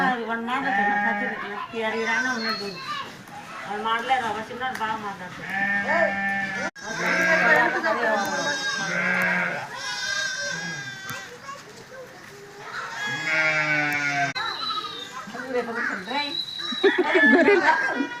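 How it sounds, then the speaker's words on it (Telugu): A flock of sheep bleats repeatedly, wavering cries overlapping one another, while children and adults talk nearby. "గొర్రెలు పోతా ఉంటే చూస్తా ఉండు."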